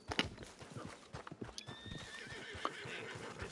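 A horse in the video game Red Dead Online arriving, with a close clip-clop of hooves, a whinny and the snort and jingle of tack, fairly quiet and heard without talk.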